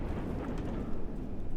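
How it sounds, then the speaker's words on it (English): Explosion in the game FortressCraft Evolved, a dense low rumbling roar that stays loud and steady without a clear single blast. "I really want to kind of experience this explosion with you guys"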